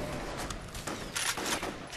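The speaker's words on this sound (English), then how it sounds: "I've got a shotgun in slow motion." Slowed-down shotgun blasts from F.E.A.R. Extraction Point boom and smear into long, hissing roars, with two heavier bursts standing out in a dense, continuous wash of game noise.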